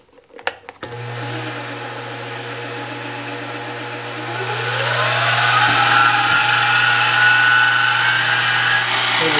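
A milling machine plunge-cuts knife steel with a steady motor drone, starting after a few clicks and rising into a louder, higher whining grind halfway through, with no voices.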